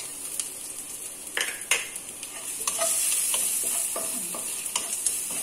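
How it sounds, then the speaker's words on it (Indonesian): Garlic spice paste for mie gomak rebus fries in a pan while a utensil stirs it, giving a bright steady sizzle with repeated scraping knocks against the metal, close and without voices. "Kita masak bumbunya dulu"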